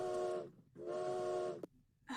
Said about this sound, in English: Here's your train.